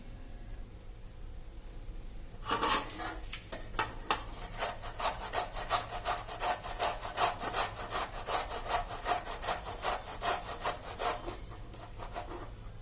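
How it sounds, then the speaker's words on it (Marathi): A peeled bottle gourd is rubbed over a hand grater in quick, even strokes, about three per second. The rasping is close and steady with no talk, and it begins after a short quiet start. "आता मी त्याला किसनीने खिसून घेणार आहे"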